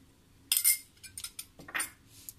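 A metal spoon clinks and scrapes against a bowl while ginger-garlic paste is scooped in for moong dal pakode, a sharp close tap followed by a few lighter scraping knocks, with no voices.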